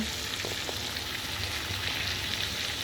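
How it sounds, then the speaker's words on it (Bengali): Meat for khichuri fries in hot oil in a pan, giving a steady, dense sizzle close up with a couple of faint stirring knocks and no voices. "আমার মাংস প্রায় কষানো শেষের দিকে। দেখেন তেল উঠে গেছে।"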